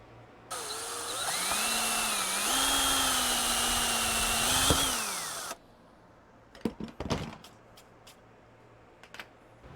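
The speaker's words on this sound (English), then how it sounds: "I'm going to drill out these 2 holes and get right back to you." A power drill whines loudly for about five seconds while drilling two holes to mount a Ram track mount on a Subaru Crosstrek, pitch rising and holding as it bites in, then stops, followed by scattered clicks and handling clatter.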